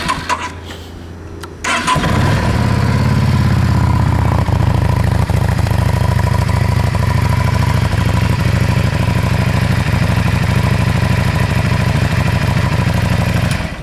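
A 2006 Yamaha V-Star 650 motorcycle with about 3,191 miles cranks and catches after a short start, then settles into a loud, steady, close-up idle with an even low throb.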